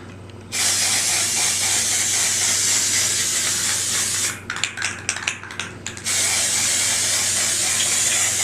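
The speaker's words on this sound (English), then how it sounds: "There's a lot of direct spray that you have to do with this, and I don't want to cause any runs." A spray can hisses loudly while coating a 3D printed Infinity Gauntlet, one long steady burst, a short broken stretch of rattling and sputtering, then another long continuous spray, with no talking.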